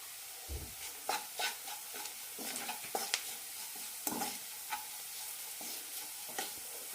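Masala powders with a pinch of salt roasting in a pan for egg roast, a steady soft sizzle under repeated stirring scrapes, close and even throughout.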